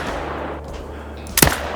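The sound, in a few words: rifle gunshot in theHunter: Call of the Wild video game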